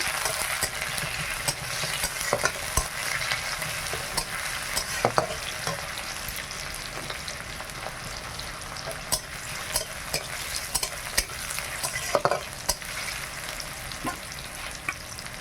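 Small tomatoes sizzle and crackle in a pan with bay leaves while being stirred, a steady frying hiss broken by scraping strokes and occasional sharper clicks, with no talking.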